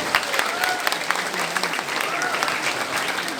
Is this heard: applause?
yes